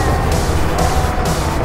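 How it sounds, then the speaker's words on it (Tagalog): Fast vehicle passing by at night near a road beside an airport runway, a loud broadband rush of tyre and engine noise that stays close and steady throughout. "Mabilis yung sasakyan."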